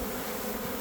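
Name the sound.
honeybee swarm captured in a large net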